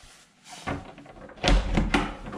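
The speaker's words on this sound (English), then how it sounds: "secret door." A secret door in an abandoned Victorian swimming pool creaks and thuds open, with a few wooden knocks and scraping bumps over about two seconds, fairly close in a reverberant room.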